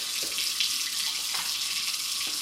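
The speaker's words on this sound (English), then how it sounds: "First thing I'm going to do is just run some hot water." Hot water gushes steadily from a kitchen tap into a sink, a constant hissing splash that is fairly close and even, with no speech over it.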